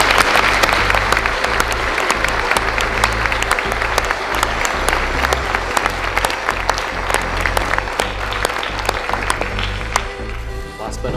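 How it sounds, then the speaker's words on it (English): A graduation-day crowd claps for a graduating student, dense sustained applause filling the whole stretch with scattered sharp individual claps, while voices murmur faintly underneath. "Applause for the third."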